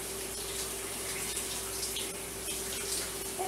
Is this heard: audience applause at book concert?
no